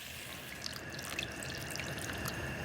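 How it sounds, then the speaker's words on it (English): Water poured into a pan to poach fruit, heard as a quiet, steady trickle with a few scattered drips in a kitchen, no voices. "to this pan, I'm going to add a little bit of water, so they have got some liquid to poach in"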